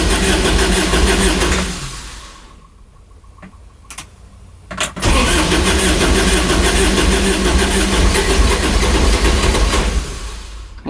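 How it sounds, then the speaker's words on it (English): A Kubota diesel UTV engine cranks over loudly, stops briefly with a couple of clicks, then cranks again in a long steady churn before cutting off. "Let's see, crank her over."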